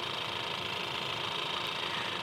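A 2022 Ford Maverick's 2.0-liter four-cylinder engine idles steadily with a smooth, even hum and light mechanical ticking, close and constant, with no talk.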